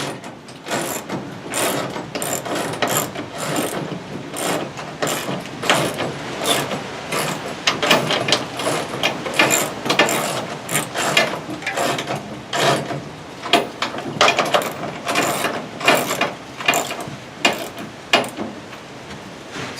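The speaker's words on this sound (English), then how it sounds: "once all 4 bolts are tightened and not cross-threaded, we're going to just snug them up" Wrench snugging bolts on a hand cart axle, a long run of quick, close ratcheting clicks in an irregular rhythm, heard alone without talk.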